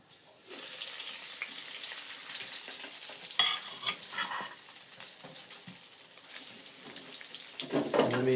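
Arancini balls dropped into a deep fryer basket of hot oil, a sizzle that surges up suddenly and then bubbles steadily, with rattles and clatter from shaking the basket midway and near the end.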